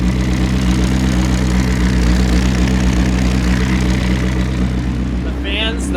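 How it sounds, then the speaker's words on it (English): A rebuilt McLaren's engine runs at a steady idle close to the microphone, with a constant low drone and strong harmonics throughout and a faint high whine near the end. "I'm just gonna put the microphone over here so you can hear the engine a little bit."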